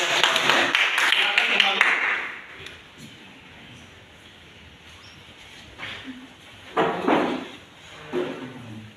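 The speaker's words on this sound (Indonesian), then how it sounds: "beri aplaus untuk kelompok 3" A classroom of students bursts into short, loud applause for the third discussion group, the clapping fading after a couple of seconds into room noise, shuffling and a teacher's voice.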